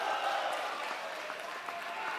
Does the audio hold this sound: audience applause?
yes